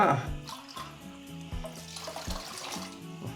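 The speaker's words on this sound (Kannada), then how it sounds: "ಈ ಥರ ಕ್ಲೀನಾಗಿ ಎರಡು ಸಾರಿ ತೊಳ್ಕೊಂಡಿದ್ದೀನಿ" Sago pearls being rinsed in water: brief splashing and pouring sounds come in short bursts, close and fairly quiet, with a voice faintly in the background.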